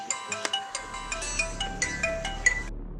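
A phone's ringtone plays close by as a quick melodic electronic tune in rhythmic bright pulses, then cuts off near the end, with no talking during it.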